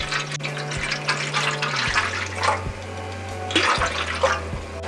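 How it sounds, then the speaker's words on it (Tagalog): Water poured steadily into a pot on a stovetop, a continuous splashing pour with a couple of brief pauses, close and fairly loud with no voices. "ibubuhos ko na po yung ating natira na tubig na 9 cups"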